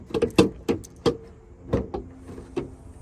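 Clunks, clicks and latch sounds as the hood of a frame-damaged Mercedes-Benz C63 AMG convertible is released and lifted, a quick cluster of sharp knocks followed by a few duller thuds, close by with no talk.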